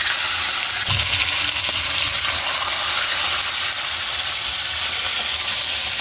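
Fish sizzles and crackles in hot cooking oil, a dense, steady frying hiss that stays loud and continuous, with a few faint clinks and no talking.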